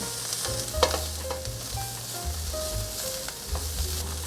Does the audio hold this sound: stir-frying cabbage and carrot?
yes